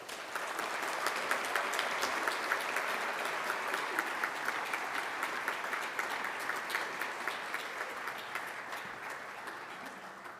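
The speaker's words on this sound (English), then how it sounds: "Let's give them another round of applause." A school excellence celebration audience gives a long round of applause, a steady, moderately distant wash of many clapping hands that holds evenly for about ten seconds before easing slightly at the end.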